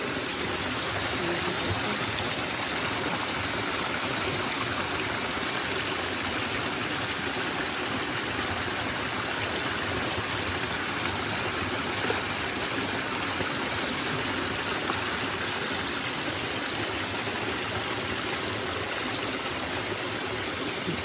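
Water runs continuously from a roadside drinking pipe for passersby, a steady rushing gush that stays loud and unchanging throughout, with no talking.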